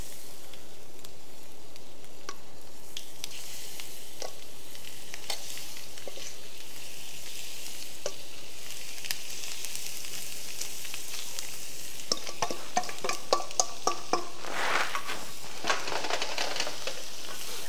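Chicken pieces frying in a hot frying pan give a continuous soft sizzle, with sharper pops and crackles clustering toward the end as the meat is stirred or moved.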